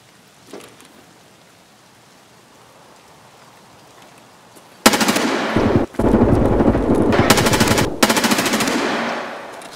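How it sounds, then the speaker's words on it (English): Sustained automatic M4 rifle fire in the shooter game Escape from Tarkov: loud rapid bursts that start abruptly after a quiet stretch, briefly pause, then continue in long strings of dense shots, with no talking. "That's an M4."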